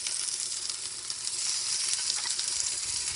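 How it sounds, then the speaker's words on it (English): Beef searing in a hot pan, giving a loud, steady high sizzle and hiss that crackles continuously with small pops throughout, with no talking over it. "I want to get my beef going on because the pan is probably hot"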